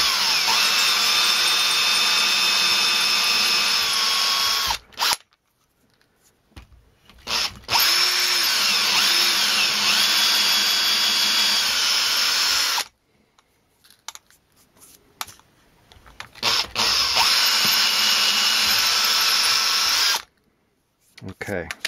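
A power drill bores through the resin foot plate of a Warlord Titan model base in three loud, sustained whining bursts separated by brief pauses, close to the microphone.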